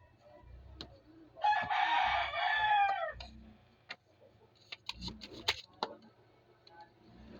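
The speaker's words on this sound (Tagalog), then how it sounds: "Ang daming manok." Rooster crowing close by in a rural neighborhood, one long loud crow lasting over a second, followed by scattered clucks and short chicken calls over a low background hum.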